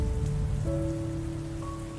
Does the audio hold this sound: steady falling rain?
yes